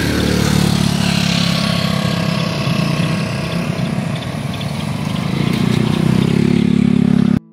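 A motorcycle engine runs continuously at close range, a loud steady rumble that swells slightly before cutting off abruptly at the end.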